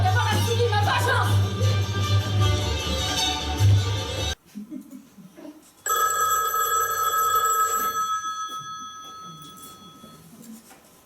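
A telephone bell rings on a theatre stage, an electric ring that comes in two bursts separated by a short gap, the first with other sound beneath it and the second ringing out clearly before fading.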